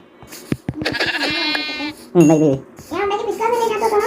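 Sheep in the Minecraft video game bleating, several loud, wavering game bleats in close succession, one after another with short gaps, clear and near with no talking.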